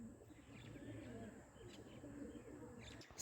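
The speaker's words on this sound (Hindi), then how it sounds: "ये इन्होंने 7 कबूतर रखे हुए हैं" Faint, soft cooing from a small group of seven kept pigeons, low and steady, in a quiet outdoor setting.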